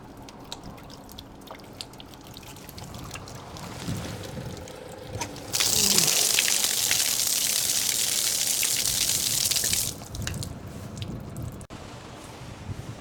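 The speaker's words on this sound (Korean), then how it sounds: "이렇게 물을 받을 수 있는 개수대가 별도로 있습니다" An outdoor sink tap at a seaside campsite by Wolduseon dock in Muan, South Korea, is turned on and water gushes loudly for a few seconds before shutting off, with faint drips and outdoor noise around it.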